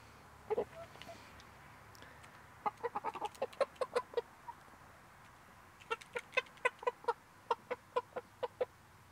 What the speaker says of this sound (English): The Icelandic chickens are doing good.